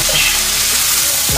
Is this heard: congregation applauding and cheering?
no